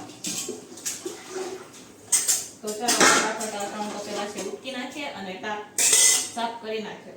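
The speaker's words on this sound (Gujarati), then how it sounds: "તો ચાલો ફટાફટ આ 3 તપેલા છે ઉટકી નાખીએ" Steel cooking pots and utensils are scrubbed and knocked together in a home kitchen, producing repeated metallic clanks and scraping close by. A few louder bangs rise above the rest, and someone talks over the work.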